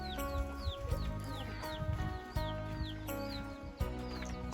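Chickens cluck and chirp in Ban Wang Yung, a seven-house rural village, a steady chorus of overlapping hen calls close by, with scattered louder bursts and no talking.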